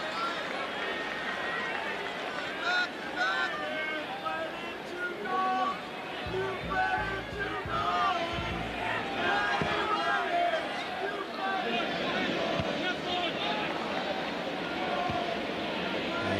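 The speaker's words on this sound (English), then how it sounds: "US fans with an impromptu chant for Matt Ryan that you can hear behind the goal" US fans chant behind the goal at a United States vs Australia soccer match, a steady roar of crowd voices that carries on through the whole stretch, with a commentator talking over it.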